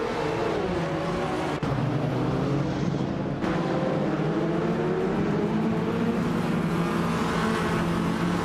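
Group C2 race cars roaring around a track in a racing game, a steady loud engine drone with shifting pitch as cars pass, continuous with no voices.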